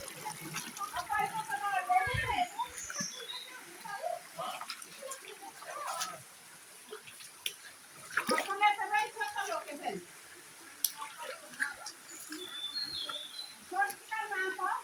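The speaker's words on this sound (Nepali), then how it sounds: "कल कल कल कल खोला" A mountain stream gurgles and splashes steadily near Shivasatakshi Dham, running as a continuous close wash of water beneath frequent lively talk and exclamations.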